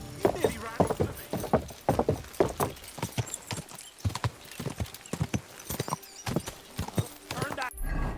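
Rapid clip-clopping horse hooves pound close by with a whinny in Kingdom Come: Deliverance II, the galloping rhythm steady throughout while a person talks over it.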